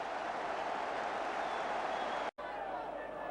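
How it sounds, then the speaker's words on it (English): Football stadium crowd applauds and cheers during a 1978-79 match, a broad continuous roar of clapping, briefly cut off before resuming slightly quieter. "Tony Curry milks the applause that is so deserved."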